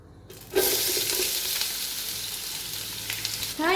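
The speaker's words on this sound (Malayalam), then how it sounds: "എണ്ണ ചൂടായി കഴിഞ്ഞാൽ സവാള ഇട്ട് കൊടുക്കാം" Chopped onions hit hot sunflower oil in a pan as the base for chicken biryani, bursting into a loud, steady sizzle that holds unbroken from start to finish.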